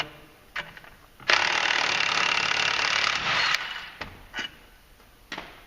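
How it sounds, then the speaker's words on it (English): Impact wrench removing the secondary clutch from a 2016 Polaris General 1000 during a clutch kit install, a loud sustained burst of about two seconds, with short clicks and clanks of handling before and after. "And then to get the secondary clutch off, we'll take it off quick with an impact for the video."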